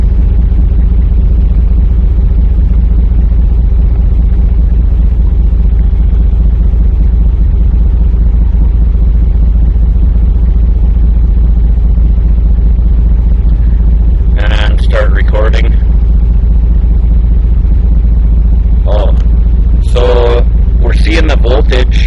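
A pickup truck engine idles with a steady, loud, low hum that never changes, while someone speaks in short bursts near the end.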